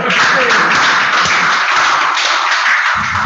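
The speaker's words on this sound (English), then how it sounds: "Well, go on and clap big, man" An audience at an alumni foundation's programme launch gives loud, continuous applause, a dense wash of many hands clapping throughout, with a faint voice underneath.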